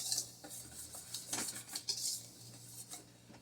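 A whisk scrapes and clinks briskly against a bowl while flour, salt and spices are mixed for butternut squash quick bread, quiet and close with an uneven rhythm and no talking.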